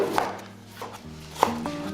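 A knife chops a ripe tomato on a cutting board, a few sharp, separate knocks spaced irregularly and heard close up with no talk.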